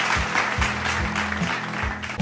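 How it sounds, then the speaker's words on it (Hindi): An audience claps for young artists at a Diwali art competition results event, a dense, continuous round of applause over a low, rhythmic tonal background. "एक बार जोरदार तालियों के साथ हमारे इन नन्हे कलाकारों का हौसला बढ़ाएं"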